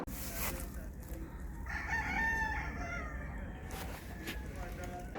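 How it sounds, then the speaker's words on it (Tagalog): Chickens and roosters at a Filipino fowl farm, with a rooster crowing clearly mid-clip against a steady background of clucking and farmyard noise while someone talks. "Yun yung mga manok, mga paps,"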